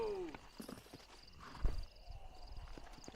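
Horse hooves clip-clop in a steady walking rhythm on a Red Dead Redemption trail, quiet and close, with a brief thump midway and light background ambience.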